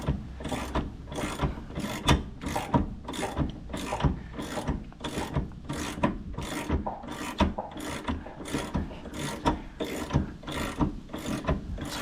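An adjustable wrench works a fine-thread nut loose under a Camaro in repeated short, rasping turns with clicking metal contact, evenly paced and close, with no talking.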